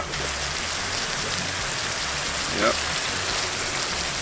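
Crawfish curry heating in a pot over an outdoor wood fire in Jamaica: a steady, dense crackle and fizz like light bubbling, continuous and close. A short spoken word cuts in briefly near the middle.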